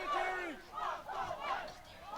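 Crowd shouting and cheering in loud, swelling waves at a boys' senior soccer match, rising and falling several times over a steady murmur of voices.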